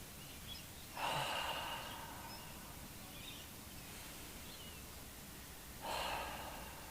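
Yogic breathing, with two slow audible breaths a few seconds apart, soft and close over quiet room noise.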